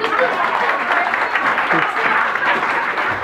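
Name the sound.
applause for raffle winner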